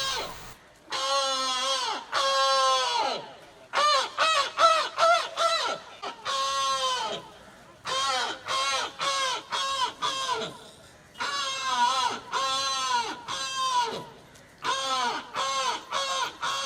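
Crows caw loudly and close at a crow worship day gathering in a park, in a long series of harsh, evenly repeated calls grouped in bursts with short pauses.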